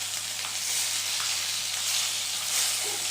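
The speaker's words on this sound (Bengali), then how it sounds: "মাছটা খুব সুন্দরভাবে ভাজা হচ্ছে দেখুন" Katla fish frying in a pan, giving a steady, close hissing sizzle with small crackles and no pause, under a faint low hum.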